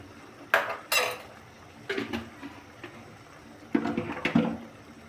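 Chicken curry with chili and turmeric powder being stirred and sautéed in a pan, giving sharp metallic clanks and scrapes of a utensil against cookware in a few separate bursts, fairly close with a quiet background.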